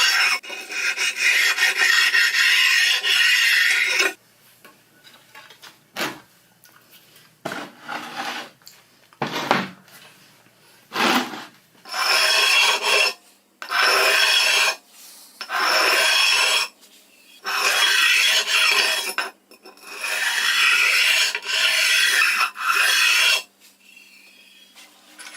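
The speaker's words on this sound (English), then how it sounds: "so I'm stoning the faces more directly" Sharpening stone rasping back and forth across the bed faces of a CJ0618 7x12 mini lathe, a series of loud rough strokes, several quick and short, then longer even passes with pauses between.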